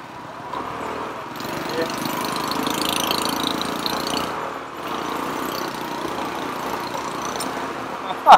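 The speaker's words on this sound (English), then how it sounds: "we're driving up the road behind an excavator" A car engine drones steadily while driving slowly up a road behind an excavator in Vietnam, a low rumbling hum with a brief loud knock near the end.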